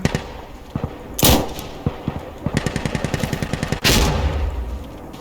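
Weapons fire in the Insurgency Sandstorm video game, where a grenade launcher is in use: loud close shots, a rapid burst of repeated reports, and two heavy blasts with a lingering roar.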